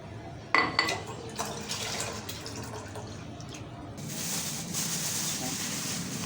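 Milk pours from a 1 litre pack into a pot, with a clatter at the start followed by a steady liquid gurgle and fill that rises into a louder flowing rush.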